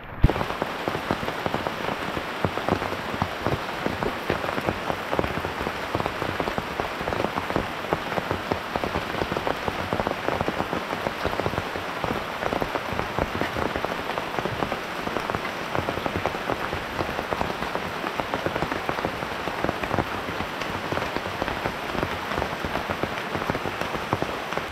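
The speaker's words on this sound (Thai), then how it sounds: "ในข้างนอกนี้ฝนตกจ้าๆเลย" Heavy rain pours steadily on the surface just outside a jungle rain shelter, a dense, continuous hiss and patter that stays loud and even throughout with no voices.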